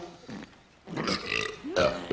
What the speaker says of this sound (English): Each member of this board will have an involuntary gastric eruption.